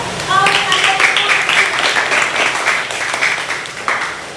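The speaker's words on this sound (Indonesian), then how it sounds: "Baik, kalau begitu tepuk tangan deh." A class of children applauds in a classroom during a lesson, a steady patter of many small hands clapping together at close range for several seconds, with a few voices mixed in.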